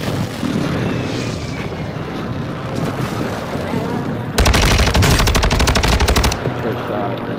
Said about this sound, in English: Yeah, that's the team that's shooting at me